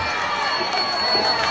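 A festival crowd at an outdoor tropical music concert on Orchard Beach in New York City cheers and claps in a steady, dense wash of noise, with no individual voice standing out.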